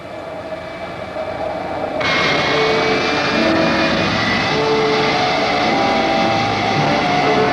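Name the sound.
F-104 Starfighter jet engine while taxiing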